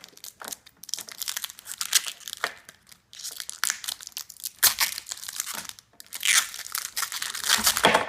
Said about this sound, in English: there's still packing tape on there. Take that off now.